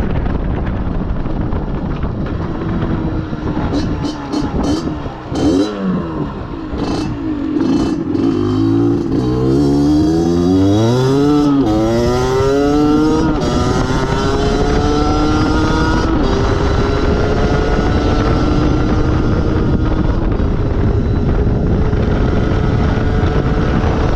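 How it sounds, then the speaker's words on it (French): A motorcycle fitted with a Yasuni ML cross exhaust runs loud and close while it starts to misbehave, its engine revving up and down in uneven surges over a constant rough drone, with no voices. "la moto a commencé à sérieusement déconner"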